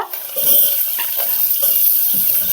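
Chopped onion fries in a pan for an eggplant curry, a steady soft sizzle with light stirring scrapes and small clinks running throughout, no talking.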